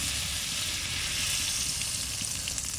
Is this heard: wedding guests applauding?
no